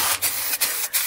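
Spray paint hissing onto Vauxhall Tigra wheels in light, fine coats, a loud close continuous hiss broken by three brief pauses between bursts, with no voices.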